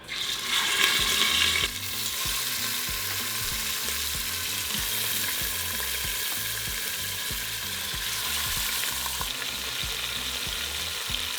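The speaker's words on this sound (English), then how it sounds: "now we are ready to sear our meat" Meat searing in a hot Instant Pot for birria verde, a loud continuous sizzle and crackle that rises sharply as the meat goes in, with faint scraping underneath.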